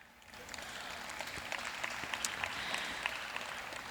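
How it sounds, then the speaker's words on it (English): An audience at a surgeons' event applauds a bariatric coordinator, a steady wash of many hands clapping that swells slightly and holds at a moderate, slightly distant level for a few seconds. "she definitely needs an applause as well"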